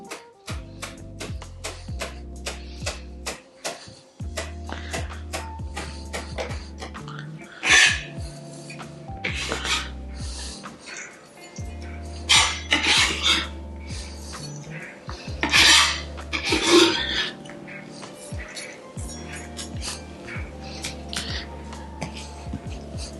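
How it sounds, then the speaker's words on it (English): Fresh parsley is chopped with a knife on a cutting board in irregular bursts of scraping and tapping, close and fairly loud, with some rasping strokes and clinks of kitchen utensils and no speech. "the first thing we're going to do is chop up our parsley, and it doesn't have to be super fine"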